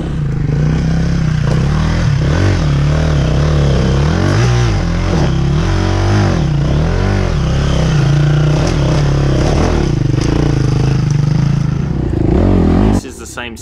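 A KTM dirt bike ridden hard through a rocky enduro section, engine droning loud and close with surging revs, clattering rock hits and scrapes, ending with a sudden cut.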